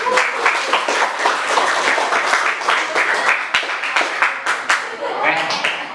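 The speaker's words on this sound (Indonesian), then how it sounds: "tepuk tangan untuk kalian semua" Students in a classroom clap together, a dense burst of applause that carries on steadily and loudly, with faint voices underneath.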